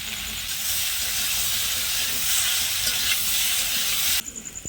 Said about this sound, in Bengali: দিয়ে ভালো করে ভাজা হচ্ছে।